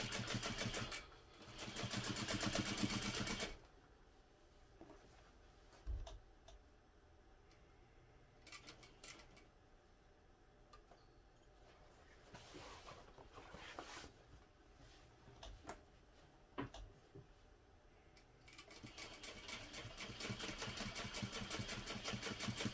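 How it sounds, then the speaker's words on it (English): A sewing machine top-stitches along each side of a seam on a crossbody bag, running in several short, quiet mechanical bursts separated by near silence, with one longer run at the start and another at the end. "I'm going to top stitch along each side of that"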